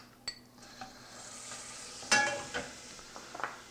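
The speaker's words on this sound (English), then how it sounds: "we'll start off with a little saute of some shallots" About two tablespoons of butter lightly sautéing shallots make a faint, soft sizzle, broken by a few sharp utensil clinks and scrapes against the pan.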